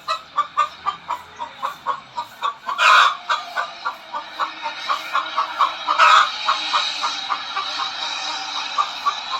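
Chickens cluck in a steady rhythmic series nearby, with two louder crowing bursts standing out along the way.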